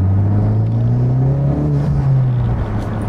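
A Honda Civic Type R FK8 engine rumbles steadily at close range, its low drone rising and falling slightly as it revs, with no voices.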